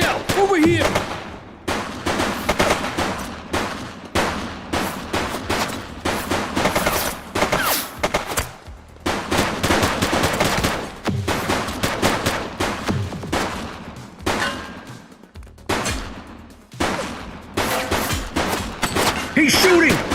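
Rapid bursts of gunfire in the police game The Precinct, shots cracking repeatedly in dense volleys with short gaps, loud and close, mixed with shouting voices.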